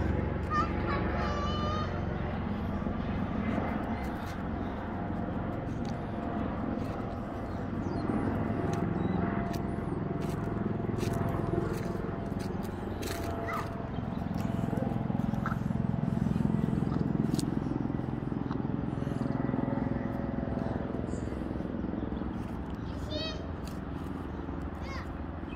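A helicopter flying overhead outdoors makes a continuous low drone that swells midway and then eases, heard under people talking and other outdoor sounds.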